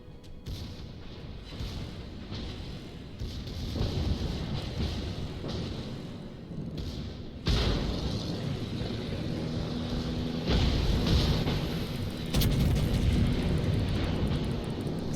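Battleship guns boom in World of Warships, a run of heavy gunfire blasts and impacts over a constant engine and sea rumble, with sharp cracks and ricochet hits spaced through the sequence and no talking.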